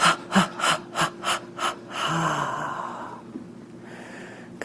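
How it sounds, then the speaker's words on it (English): Deep breathing exercise: a run of seven quick, rhythmic forceful breath pulses, then one long drawn-out exhale that trails off into near silence, close and loud. "You're going to inhale, and then you're going to exhale"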